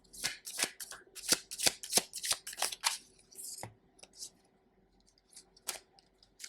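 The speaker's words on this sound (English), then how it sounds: "I'm gonna take this card. I'm gonna reshuffle it." A deck of tarot cards is shuffled by hand, a quick series of crisp riffling bursts for about three seconds, then a few scattered card slaps and taps, close and with no talk.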